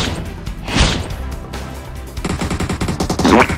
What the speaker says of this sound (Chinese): 15方向有枪声。